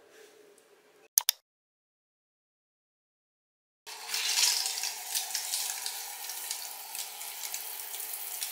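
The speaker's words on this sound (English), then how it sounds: "Okay, we're gonna shower now." Shower water starts running after a short silence, a steady hiss of spray that continues alone and fairly close, in a hotel bathroom in Kigali, Rwanda.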